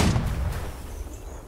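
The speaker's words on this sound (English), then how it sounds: "We're gonna let our artillery snipe the fuck out of them." Artillery fire rumbling in the Holdfast video game, a loud low boom at the start followed by a sustained dull rolling roar, with no voices over it.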